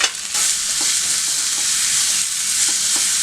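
Onions sauté in hot oil in a pan, giving a steady bright sizzle close by, broken by a few light scraping stirs, with no talking.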